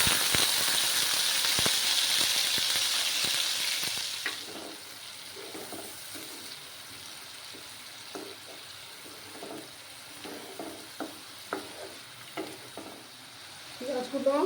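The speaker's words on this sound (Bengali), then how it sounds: "পেঁয়াজগুলো ভালো করে ভাজা হয়ে যাক" Onion paste frying in hot salted oil for a small fish curry: a loud steady sizzle at first that settles into quieter spitting and frying, with scattered stirring taps and scrapes in the pan, ending in a brief water or tap sound.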